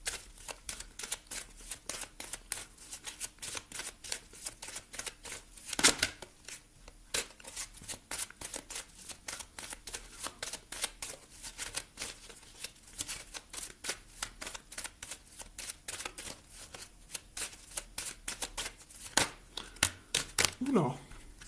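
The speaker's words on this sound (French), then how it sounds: "Je vais vous tirer une petite carte ici du Mystic Woods." Oracle cards from a Mystic Woods deck being shuffled, a dense run of quick papery riffles and flicks going on steadily throughout, with a louder burst near the middle and another near the end.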